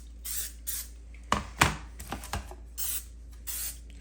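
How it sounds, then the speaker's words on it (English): Nonstick cooking spray spritzed into springform cake pans, several short hissing bursts close by, with a few clattering knocks of the pans being handled in between. "I want to spray with a little bit of nonstick spray."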